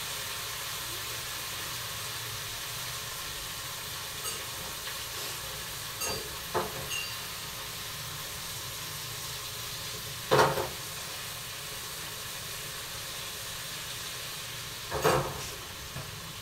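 Fish frying in a kadai gives a steady, soft sizzle and hiss throughout, broken by a few louder spits and crackles near the middle and end.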